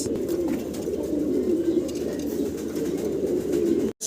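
Pigeons coo steadily and continuously at a large pigeon farm in Bangladesh, a dense, low murmuring chorus of many birds close by with no talk.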